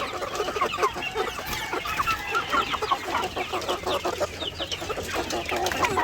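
Large, healthy young pullet hens on a farm cluck and chatter continuously, several birds close by with busy overlapping calls and no talking.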